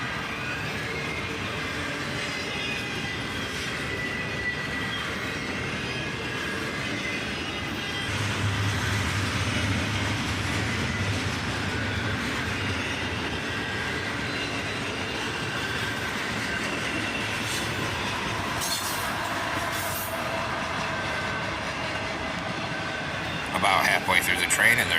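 A southbound CSX intermodal freight train led by ES44AH and ET44AH locomotives, with single-stack cars and a mid-train AC44CW, rolls past close by with a steady loud rumble and clatter and a brief squeal near the end, while someone talks over it.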